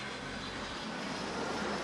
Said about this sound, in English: And you can see the planes come in like this.